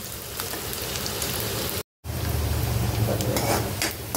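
Onions fry in a pan with a loud, dense, continuous sizzle, broken by a brief cut to silence partway through.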